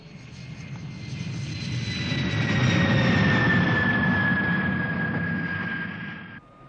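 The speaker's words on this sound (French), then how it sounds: "Il va faire un passage au-dessus de la piste, au ras du sol." A fixed-wing airplane makes a low pass over a runway, its engine roar swelling as it approaches and then fading, loud and steady with a sustained whine above the rumble.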